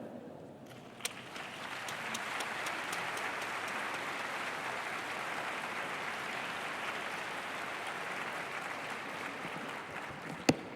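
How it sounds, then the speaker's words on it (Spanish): An audience breaks into applause to welcome someone speaker, rising after a quiet start into a steady, even wash of clapping from a sizable crowd, with a sharp knock near the end. "La vamos a recibir con un aplauso"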